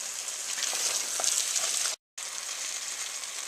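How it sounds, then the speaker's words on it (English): Onions fry in a dark roux for chicken and sausage gumbo with a close, steady sizzling hiss and light crackle, cut by a brief moment of silence midway before the sizzle resumes. "The onions have been cooking at about medium-low for about 3 to 5 minutes."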